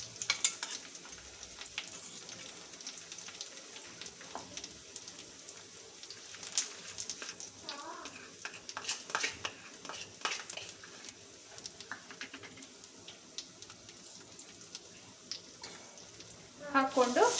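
Spice paste for pepper chicken sizzles steadily as it fries in hot oil, a close, continuous crackling hiss with occasional scraping stirs and a louder burst of spattering near the end.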